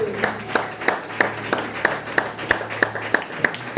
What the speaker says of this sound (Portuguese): A igreja pode se assentar, aplaudindo ao Todo-Poderoso